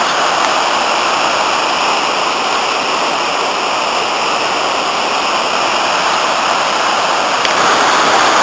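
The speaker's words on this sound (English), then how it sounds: "You can hear the thunderous roar of the rapids with the amount of water in the Aberglaslyn River." A steady, thunderous roar of rushing whitewater from rapids on the Aberglaslyn River in a gorge fills the whole stretch, loud and unbroken like rapids close by.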